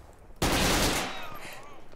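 Gunfire erupts in the military video game Project Reality as a sudden loud burst of shots that rings out and decays over about a second, with a faint voice afterward.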